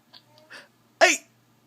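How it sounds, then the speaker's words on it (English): A young child's hiccups: a few soft breathy catches, then one sharp, louder hiccup near the end, heard close in a quiet room. "He's got hiccups."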